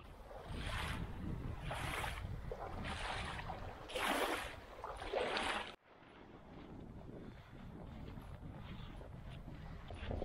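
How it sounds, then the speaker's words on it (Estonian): Strong wind gusting over a lake during a cold fishing trip, buffeting the microphone in repeated roaring surges, then settling into a steadier, slightly softer rush of wind and water with no voices. "siin on nii tuuline"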